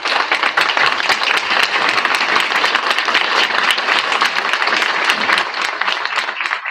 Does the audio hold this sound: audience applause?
yes